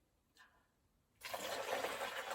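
Coloured water poured in a children's pouring game, a short faint trickle first, then a sudden loud, sustained gushing pour that continues steadily to the end without talk.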